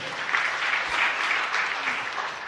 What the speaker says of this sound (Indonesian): tepuk tangan yang meriah bagi Tuhan